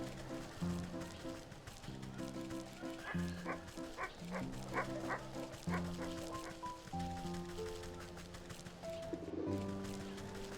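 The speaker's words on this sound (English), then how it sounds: "Dog! Oh, the dog bit me." Dog barking in the video game Wytchwood, short yips and woofs popping up over a busy musical background with bird-like coos, moderately loud and repeated through the passage.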